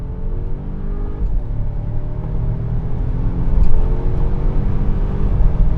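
A Volvo XC90 Recharge SUV engine roars as it accelerates at full throttle with a slight tire chirp, a steady heavy rumble that builds and swells toward the end.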